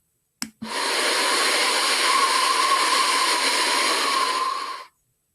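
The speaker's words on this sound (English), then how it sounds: "And here's wind." A wind sound effect in a general music lesson: after a couple of clicks, a steady, loud whooshing rush holds for about four seconds, then cuts off abruptly.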